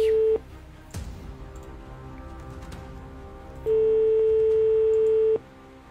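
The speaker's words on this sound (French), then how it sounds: "Allez, on va entendre les sonneries. Première sonnerie." A steady electronic telephone ringback tone sounds briefly, then pauses before a longer second ring, over faint background noise with no talking.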